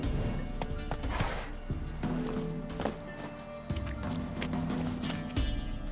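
Clip-clopping hooves of Roach, the horse in The Witcher 3, in a steady trotting rhythm, close and clear over faint game background sound.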